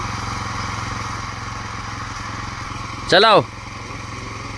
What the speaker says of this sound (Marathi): ही वाली मशीन घेतली नवीन